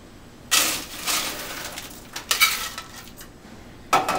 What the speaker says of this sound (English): Take one of your pitchers, like this, fill it full of ice